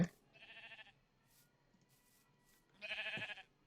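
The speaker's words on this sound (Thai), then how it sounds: "แกะแกะต้องฆ่าแกะทุกคน" Minecraft sheep bleating twice, two short wavering baas separated by a pause, clear and close against a quiet background with faint clicks.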